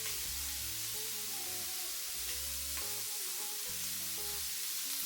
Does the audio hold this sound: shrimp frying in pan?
yes